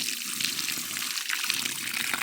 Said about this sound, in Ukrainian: Проливаю лунку водою